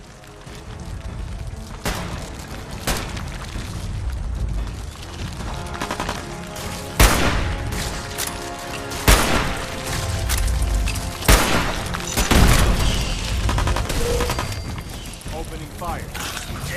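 Gunfire in the Fallout 4 video game: a steady stream of sharp shots and booming blasts at irregular intervals over a busy battle background, with voices speaking.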